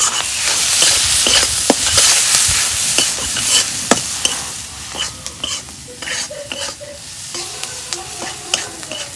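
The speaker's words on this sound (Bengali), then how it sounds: "হলুদ, লবণ, মশলাগুলো তেলের মধ্যে কষে নেব।" Turmeric, salt, dried chilli flakes and other spices frying in hot oil while being stirred, a steady close sizzle broken by repeated scraping strokes of a spoon against the pan.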